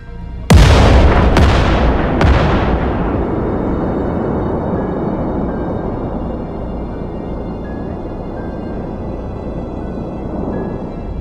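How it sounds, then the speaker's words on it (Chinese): An aluminium tank holding 1,800 kg of ammonium perchlorate explodes with one huge, sudden blast, quickly followed by two more sharp cracks, then a long, heavy rumble that slowly fades over about ten seconds. "一个含有1800公斤高氯酸铵的铝罐发生了爆炸。"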